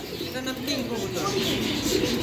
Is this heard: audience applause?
no